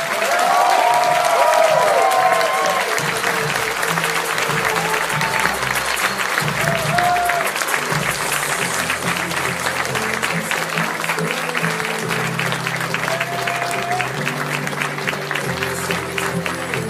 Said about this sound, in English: Let's do a round of applause for our sponsors here.